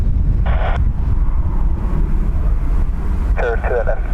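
Wind buffets a microphone beside the north runway at Dublin Airport, a heavy, continuous low rumble that persists the whole time, with brief higher tones rising over it.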